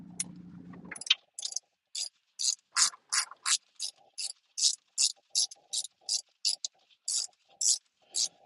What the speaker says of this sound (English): This is a nice wrench I bought at Harbor Freight. It's got a swivel head on it.